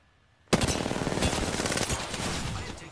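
Sudden burst of automatic gunfire in Apex Legends, starting abruptly after near silence and continuing as a loud, close, rapid stream of shots with slight variation in intensity.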